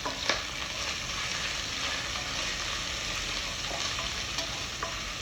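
Spices, green chili and ginger sauté in oil for a Kerala-style chicken stew, with a moderate, even sizzle and occasional light ladle taps and scrapes.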